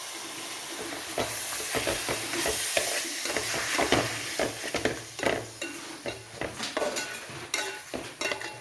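Pork and papaya curry stirred in a sizzling pan, a soft fry hiss under a run of scraping, clattering stirring strokes that grow more distinct and rhythmic toward the end.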